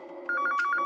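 A landline telephone rings in a steady repeating electronic trill, close and clear, over a faint room background with no talk.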